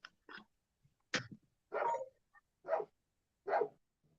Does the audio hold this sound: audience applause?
no